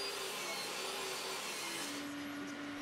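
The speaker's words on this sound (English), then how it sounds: "I set my table saw fence to rip the plywood into strips, and I'm using some 18mm Far Eastern hardwood ply" A table saw rips 18mm Far Eastern hardwood plywood into strips, a loud continuous whining cut with a steady hum, heard briefly and up close.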